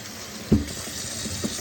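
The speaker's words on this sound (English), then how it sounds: "I just rinse them off really quick, and I do rinse them thoroughly, just with water really good" Noodles for cheesy baked spaghetti rinsed under a running kitchen tap, a steady hiss of water over a sink with a brief louder splash near the middle and a smaller one toward the end.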